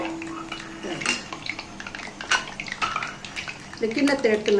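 A metal cup mould for murukku is lifted out of a pan of frying oil. Light metallic clinks and scrapes come through against a soft sizzle, with quiet kitchen clatter scattered around them.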